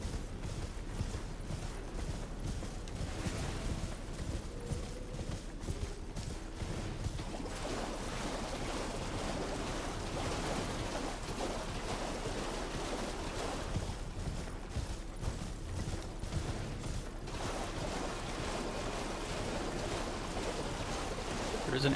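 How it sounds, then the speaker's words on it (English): A character running through water in Elden Ring, a continuous splashing wash with a steady rushing, surf-like texture holding for the whole stretch at moderate level. "Let's run through the water."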